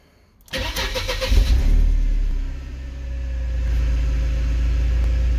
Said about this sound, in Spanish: Vamos a ver si arranca bien.